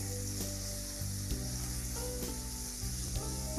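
Boneless raw chicken cooks in a masala mixture with a soft sizzle under background music, several clicks and knocks breaking through as the pan is stirred.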